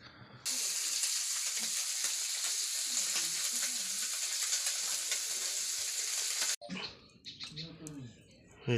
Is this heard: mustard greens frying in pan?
yes